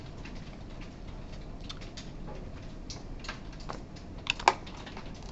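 Typing on a computer keyboard during a programming lecture, a steady patter of light key clicks throughout, ending in a couple of louder, sharper keystrokes, with faint room noise behind.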